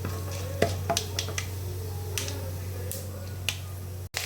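Mustard seeds, dried chili and urad dal fry in sesame oil, throwing out scattered sharp pops and crackles over a low steady hum, close and fairly quiet.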